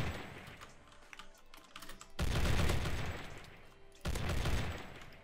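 Heavy gun fire in a Minecraft battle over obsidian comes as two loud, dense bursts of rapid shots, with lighter clicking before them.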